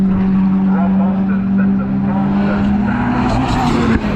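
A Mitsubishi Evo 9 races a time attack lap at Anglesey circuit, its engine roaring loud and sustained with rising and falling pitch as it drives through the corners, and a voice talks over it.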